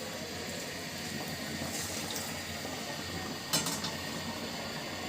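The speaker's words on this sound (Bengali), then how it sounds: "তো আমি এখন এই পর্যায়ে দিয়ে দিব এর ভিতরে আগে থেকে ফুটিয়ে রাখা গরম পানি।" Pre-boiled hot water poured into a pan of egg and potato curry makes a continuous splashing fill that swells briefly near the end, over a low background rumble.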